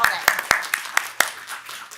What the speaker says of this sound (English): you get a clap for just staying and hanging out all